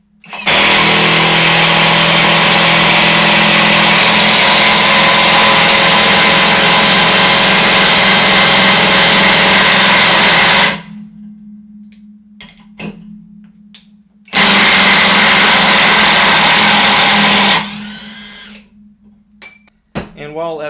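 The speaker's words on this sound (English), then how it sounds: "This isn't really what compact impact wrenches are made for, but we have a 4 inch lag right here." A compact battery impact wrench drives a 4 inch lag screw in two long bursts of loud continuous hammering buzz, separated by a short quiet pause.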